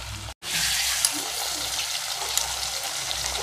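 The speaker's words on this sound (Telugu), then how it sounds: "ఈ విధంగా ఒకవైపు వేపిన తర్వాత మళ్ళీ రెండో వైపుకి టర్న్ చేసుకోండి" Fish pieces frying in hot oil for fish dum biryani give a steady, close, bright sizzle with small pops and crackles, continuing after a brief break near the start, with a cook's voice faintly present.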